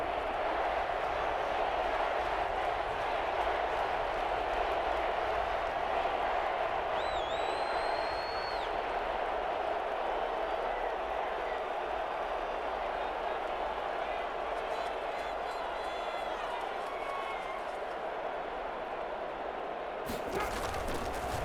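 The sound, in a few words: stadium crowd cheering in Madden NFL 21 video game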